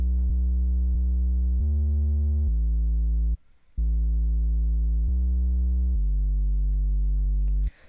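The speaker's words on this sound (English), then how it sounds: "It's a super strong, super pure sub bass." A deep, smooth synth sub bass plays a slow sequence of sustained notes, with one short gap in the middle, pure and steady.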